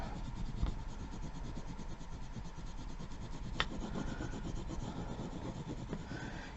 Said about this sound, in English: the smoother your surface is that you're rubbing onto, the easier it will be to stick this down